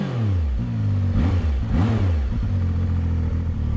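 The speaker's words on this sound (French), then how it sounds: "je vais te laisser écouter un petit peu le son rauque du 3 cylindres" A Zontes 703F Adventure three-cylinder motorcycle engine idles and blips with a raspy, throaty note, steady and close with a couple of short revs midway, no talking.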